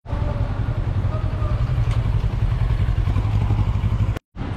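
Motorcycles buzz through narrow streets near Vesuvius, a close, continuous mid-pitched engine drone with clattering echoes off walls, ending in an abrupt cut.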